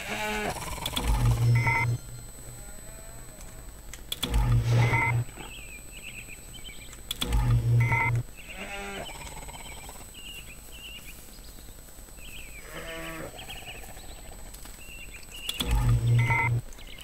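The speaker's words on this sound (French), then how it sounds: "Les vaches de l'espace" Space cow creatures in the Entropia Universe game give four short bleating, lowing calls spaced a few seconds apart over a steady electronic hum, each call loud and close.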